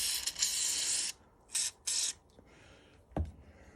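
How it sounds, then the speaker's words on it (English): Fluid Film lubricant sprayed from an aerosol can onto a 2007 Chevrolet Avalanche power-fold mirror during repair: a long hiss of about a second, then two short bursts, followed by a sharp mechanical click near the end. "now I'm going to just spray some fluid film in here"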